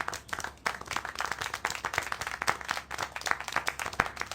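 Steady hand clapping from a crowd in the video game Syberia: The World Before, a dense patter of claps continuing evenly throughout at moderate loudness.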